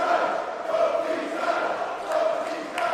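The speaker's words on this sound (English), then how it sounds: "The crowd now chanting both these guys." A wrestling crowd at a Pro Wrestling World Cup quarter-final match roars and chants in support of both competitors, a broad, sustained mass of voices that swells and dips in a loose rhythm.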